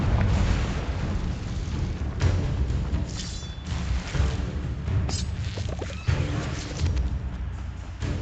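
Repeated booming spell blasts and crashing impacts from Confringo and Bombarda in the video game Hogwarts Legacy, loud and dense throughout with sharper hits layered over a continuous rumbling battle bed.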